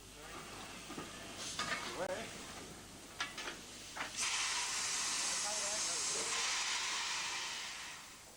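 A loud, steady hiss of escaping steam from an austerity saddle tank steam locomotive takes over after a few seconds of scattered clanks and voices, holding strongly before easing slightly.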